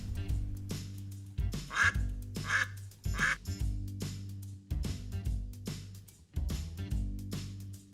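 Ducks quack repeatedly in short bursts, several calls overlapping at a moderate distance with brief pauses between groups.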